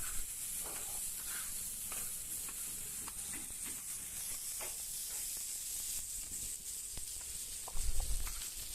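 Brinjal sautés in a pan for a brinjal egg kalakki, a faint steady sizzle and hiss with occasional stirring scrapes and a louder thump near the end.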